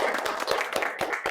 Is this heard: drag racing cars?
no